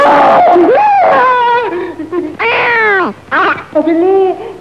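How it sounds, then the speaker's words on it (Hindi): A cat meowing repeatedly and loudly at close range, several drawn-out, wavering cries in quick succession with short gaps between them. "बिल्ली, ये तो बिल्ली थी।"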